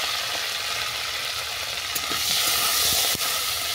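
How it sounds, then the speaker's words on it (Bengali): Broccoli seasoned with salt and turmeric sizzling in hot oil, a loud steady hiss of frying with a few sharp pops and spatters near the end, close and without talk. "তেল গরম হয়ে গেছে, আমি ব্রোকলিটা ভেজে নেব।"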